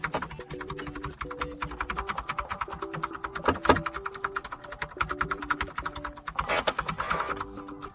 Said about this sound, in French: Maintenant, je tape sur mon clavier de mon MacBook.